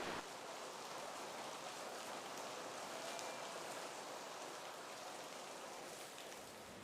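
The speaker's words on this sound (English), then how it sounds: "now it's raining, and this rain really helps me to relax, especially when I hear the rain sound" Rain falling outdoors as a soft, even wash of hiss that starts abruptly and then holds steady, faint and continuous with no voices.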